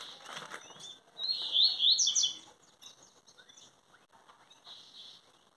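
A pair of young jacu guans call with thin, high chirps and squeaky whistles, loudest in a cluster of sharp notes near the middle, then fainter calls amid quiet surroundings.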